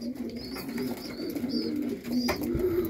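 Pigeons coo steadily up close, low throaty warbles repeating with a few higher chirps and rustles in the background.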